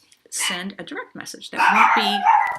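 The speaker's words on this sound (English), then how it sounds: "whoops, sorry about the dogs." Dogs bark in sharp bursts close by, overlapping a voice speaking at the same time.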